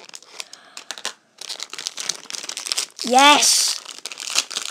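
A plastic wrapper on a toy blind bag crinkles and tears open close up in a series of sharp rustling bursts, interrupted by a short excited exclamation from a person.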